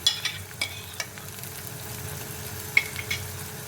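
Beef with ginger-garlic paste, whole black peppercorns and spices sizzles gently in a pan, with a few soft stirring scrapes and clinks over a low, steady frying hiss.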